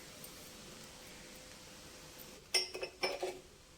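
Peanuts and cashews land in a pan of leftover-rice pulihora with a few quick, bright clinks and rattles against the metal. The sounds come in two short clusters after a quiet stretch, with no voices.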